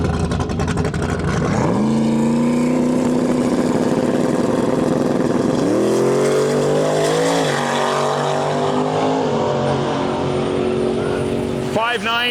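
A 1,000 hp drag car with a turbocharged LS engine and a 94 mm True North Turbos turbo roars loud and close through a full pass, its engine note rising in stepped harmonics as it shifts through the gears, with voices faintly beneath.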